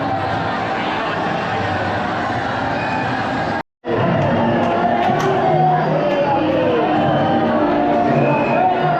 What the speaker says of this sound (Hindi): भीड़ भी भाई अच्छी खासी हो रही है यहाँ पे